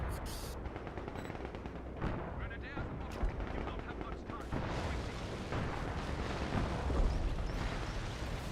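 Gunfire and artillery blasts in a PC war video game, with dense, continuous rolling shots and booms filling the whole stretch at steady loudness, and occasional voices mixed under the battle din.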